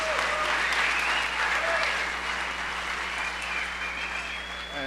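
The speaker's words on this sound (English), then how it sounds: "Can we have another round of applause for our panel?" A room full of people applauds, steady clapping that holds for several seconds and eases slightly toward the end, with faint voices underneath.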